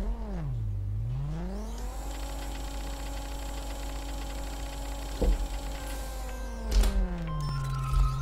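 A Mercedes-Benz AMG CLK GTR launches in the racing game Racing Rivals, its synthesized engine tone dipping then climbing and holding a steady high whine, with a couple of sharp clunks near the end.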